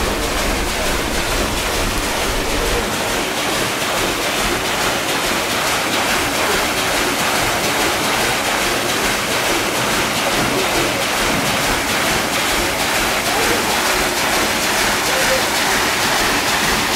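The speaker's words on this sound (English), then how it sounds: "This is the water wheel, which is driven by the water from the dam." Water rushing over a water wheel fed from a dam on Sheffield's River Porter, a steady broadband roar of splashing and churning water that fills the whole stretch without pause.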